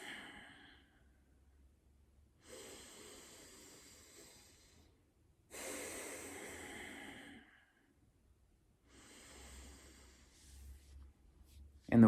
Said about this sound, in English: focusing on exhaling, pulling in on the exhale, and expanding on the inhale